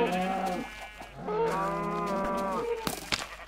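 Cows in the video game Minecraft let out two long drawn-out moos in a row, loud and close, with a few short clicks and thumps near the end.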